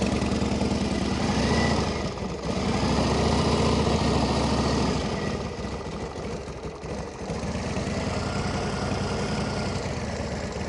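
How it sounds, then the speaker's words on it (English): A 1931 Indian 101 Scout motorcycle with a 750 engine runs steadily at idle nearby, a smooth, continuous rumbling drone that dips briefly a couple of times, with no talking. "As you can see, very sweet running bike."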